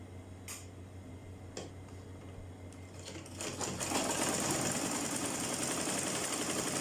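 A sewing machine stitches turban fabric. A few faint clicks come first, then the motor starts into a steady, close, whirring run of fast needle strokes.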